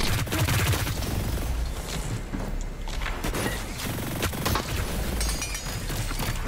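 Rapid gunfire from the video game HyperScape, bursts of shots in quick succession with sharp mechanical cracks, steady and close with no speech over it.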